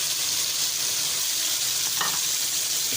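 Onion paste sizzles as it hits frying garlic-ginger paste in a pan, a steady close crackle with a brief utensil scrape partway through.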